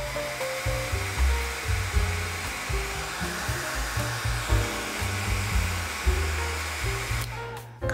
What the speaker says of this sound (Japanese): ドライヤーで今の部分を乾かします